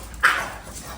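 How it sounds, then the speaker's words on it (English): A bully-breed dog sick with kennel cough lets out a single sharp, hacking cough at close range, followed by quieter rough breathing in a near-silent room. "You hear me? Kennel cough crazy."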